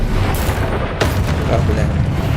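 Incendio fire spell cast in Hogwarts Legacy, a sharp burst around the one-second mark followed by roaring, crackling fire-like rumble over a busy game soundscape, with a voice calling out spells.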